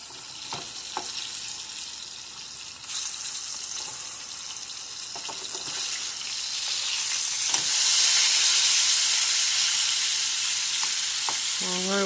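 Meatballs fry in a pan alongside cooking spaghetti and fish. A steady sizzle runs throughout and swells louder toward the end, broken by a few clinks and scrapes of a utensil.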